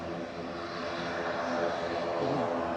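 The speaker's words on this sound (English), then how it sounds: "Noisy ATR" ATR turboprop airliner engines roar steadily at an airport, a dense loud drone with a sustained propeller hum, heard from some distance.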